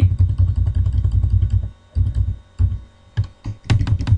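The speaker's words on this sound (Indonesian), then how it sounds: "Ini Ctrl Shift Enter. Ctrl C, Ctrl V." Keyboard shortcuts typed on a computer keyboard while working with columns of text, heard as clusters of quick, close key clicks with short pauses between bursts and a low rumble underneath.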